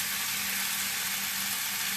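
Pork ribs sautéing in a hot pan for a home-cooked Hispanic pork rib stew, a continuous close sizzle with a steady frying hiss and no one speaking.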